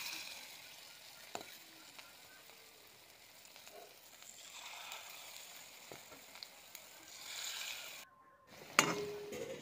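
Pakora fritters fry in hot refined oil in a kadhai, giving a faint, steady sizzle with occasional light clicks and a brief louder clatter near the end.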